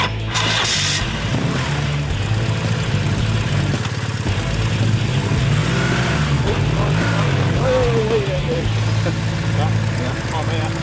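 BMW motorcycle engine pulling under throttle up a hill on an outback safari in Queensland, a steady loud mid-pitched drone with a rising whine, and voices talk over it throughout.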